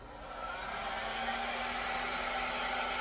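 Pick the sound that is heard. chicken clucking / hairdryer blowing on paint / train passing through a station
hairdryer blowing on paint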